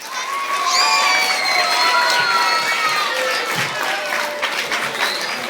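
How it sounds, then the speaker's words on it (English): Children cheering and applauding at a police department Red Ribbon Week assembly, a sustained wash of clapping with excited high shouts layered on top, loud and steady throughout. "Another round of applause"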